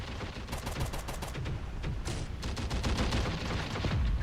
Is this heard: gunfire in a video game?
yes